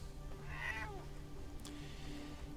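A cat in the video game Fallout: London gives a single drawn-out meow partway through, clear and fairly close over a faint, steady game ambience.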